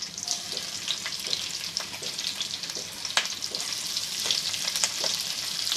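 Prawn curry frying in oil, a steady close sizzle with crackling bursts and occasional sharper pops, no voices.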